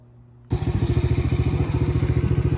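A Chinese ATV engine with a newly replaced clutch starts into a loud, close, rapid mechanical chugging after a brief quiet moment, its rhythmic pulses continuing steadily as it is put in gear.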